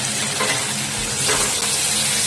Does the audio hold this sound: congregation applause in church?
no